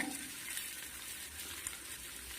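Chopped garlic and onion fry in a hot pan with a steady, soft sizzle and crackle, a constant hiss with faint spattering throughout and no talking.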